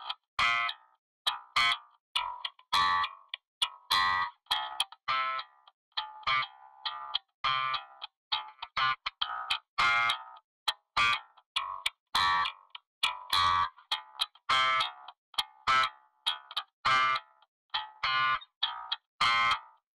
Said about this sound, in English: we've got this plugin which I use quite frequently called G-Clip,